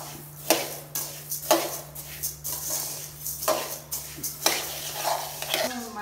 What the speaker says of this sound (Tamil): மல்லியை வறுக்கணும், வெந்தயத்தை வறுக்கணும், கடுகு வறுக்கணும், ஜீரகம் வறுக்கணும், நல்ல மிளகு வறுக்கணும்